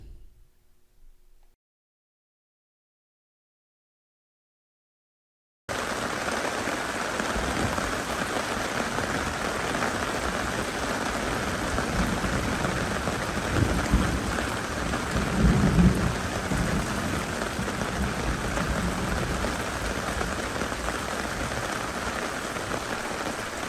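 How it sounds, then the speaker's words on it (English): Steady heavy rain hisses onto a tarp at a campsite at Moose Lake Campground near Hayward, Wisconsin, during a nighttime thunderstorm, with low rumbles of thunder rolling under the downpour after a few seconds of silence at the start. "A little bit of a thunderstorm rolled through on Saturday night"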